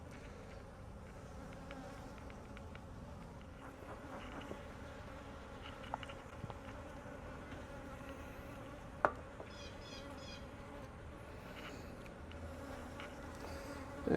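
Honeybees hum around an open hive, a soft continuous buzzing drone with occasional nearer flybys and faint clicks of hive parts, quiet and without talk.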